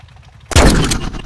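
A tank fires in a tank war video game, a single sudden loud blast that erupts after a quiet moment and rumbles on briefly.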